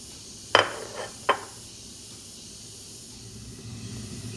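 Jackfruit pieces being stirred into flour batter in a bowl: two sharp clinks of a utensil against the dish over a faint background hiss, with no talking.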